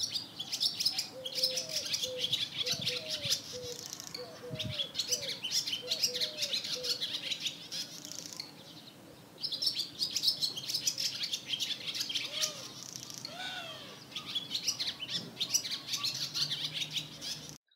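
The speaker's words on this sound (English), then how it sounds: "Let's take a minute and listen to some songs that sparrows like to sing." Sparrows singing outdoors, repeated bright chirps and short whistled phrases over a steady high hiss of background birdsong and insects, fairly faint and continuous.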